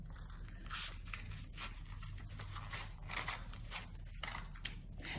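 Scissors snip through fabric being cut for a 360-degree circle skirt, a steady run of close, crisp crunching cuts with no talk.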